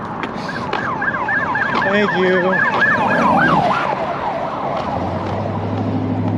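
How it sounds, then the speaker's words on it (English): Emergency vehicle sirens wail on a street, rising and falling as they pass at moderate distance, with a steady traffic rumble beneath and a brief spoken remark near the end. "Ooh, sirens. That's always a good sound."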